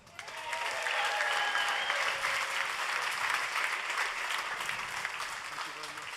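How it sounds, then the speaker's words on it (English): A crowd applauds steadily at a Bugatti Tourbillon press conference, a dense wash of clapping that swells quickly and carries on at an even, fairly loud level throughout. "And please, a big applause for the fastest man on the road,"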